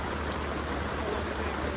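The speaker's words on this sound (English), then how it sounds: "Pouring down rain." Heavy rain pours down on a barn on a hot, sunny day, making a dense, even hiss that fills the space without a break.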